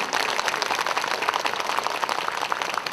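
A crowd applauds at the opening ceremony of the 2023 Buddhist Culture Festival, with dense, steady clapping from many hands that holds at full strength throughout.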